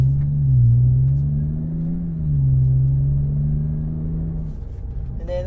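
BMW F10 5 Series with an Eisenmann axle-back exhaust in normal mode, heard from inside the cabin: a steady low engine drone that swells and eases slightly as the car drives, alone with no talk.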